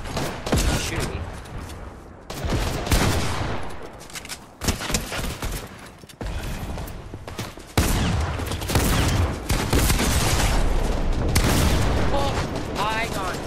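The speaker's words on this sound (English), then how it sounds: "He's shooting me." Rapid bursts of automatic gunfire and explosions from a Roblox Arsenal match, dense overlapping shots in clusters with brief gaps, loud throughout.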